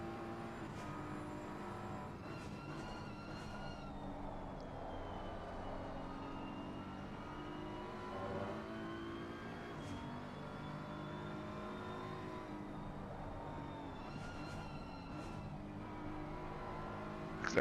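Peter Davis's BMW GT3 race car in a racing video game at Bathurst, its engine droning steadily as it runs around the circuit, with shifting revs and other cars whining faintly in the background.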